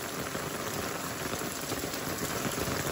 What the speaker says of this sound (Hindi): इससे आप अंदाजा लगाएं कि कितनी तेज बारिश हो रही है।